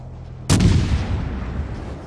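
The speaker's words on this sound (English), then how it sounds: "All stations, concentrate fire on the target." A single heavy boom from warship artillery in a naval video game, firing at a target: a sudden loud blast followed by a long, rumbling decay.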